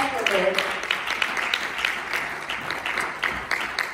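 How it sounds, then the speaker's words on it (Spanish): Congregation applauding in a church service, a steady crackling wash of many hands with bright peaks, mixed with voices and cheering throughout. "Quiero que le den un fuerte aplauso al Señor."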